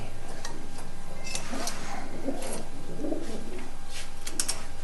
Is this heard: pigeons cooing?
yes